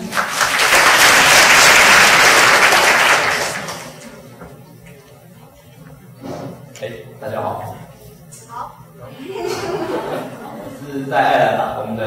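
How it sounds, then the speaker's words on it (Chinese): An audience at a working-holiday information session in Taichung claps loudly to welcome the next speaker for about three and a half seconds, then the applause dies away into scattered chatter and light laughter. "大家掌声欢迎"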